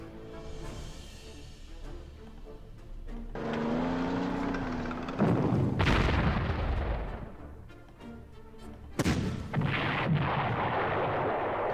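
Tank combat in the Panzer Corps video game, Afrika Korps campaign, Arabia: heavy booming cannon fire and explosions with a sustained engine rumble and rolling blasts. It is loud and close, with a second burst later.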